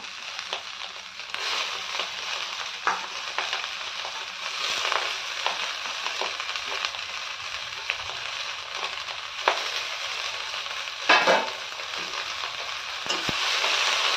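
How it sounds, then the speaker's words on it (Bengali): Small shrimp and amaranth greens fry in a pan, a moderate steady sizzle broken by scraping and clattering of a spatula as they are stirred, close and without talk. "ভালো করে নাড়াচাড়া করে ভেজে নেব।"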